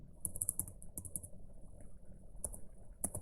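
A telnet command typed on a computer keyboard: quick clusters of crisp key clicks with short pauses between, close and clear, alone.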